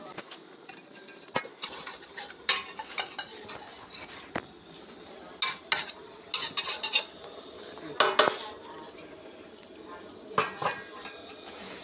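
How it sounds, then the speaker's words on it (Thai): Eggs stirred in a pan for a Thai-style omelette: utensil scraping and clinking against the pan in irregular bursts, some sharp knocks, over a light background hiss, fairly close. "ตอนนี้กำลังกวนไข่นะคะ"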